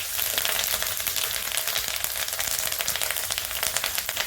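Curry leaves sizzle in hot oil for chitranna, a steady dense crackling hiss with scattered sharp pops, close and loud throughout.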